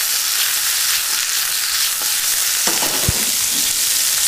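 Asparagus sizzling steadily in hot olive oil with chili flakes in a pan, a loud continuous frying hiss with a few soft clinks of tossing near the end.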